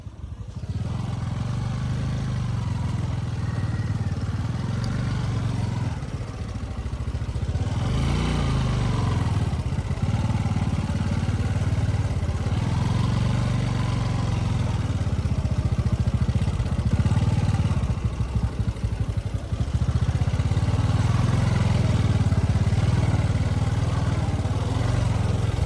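A motorcycle rides a narrow mountain road toward Lugum village in Eastern Rukum, Nepal, its steady mid-pitched engine drone running loud and continuous, with rattling clatter over the rough track.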